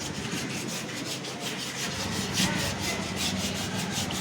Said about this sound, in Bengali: এরকম এটা ঘষে আমরা আবার বার্নিশ করব, মেশিনের মাধ্যমে রং করব।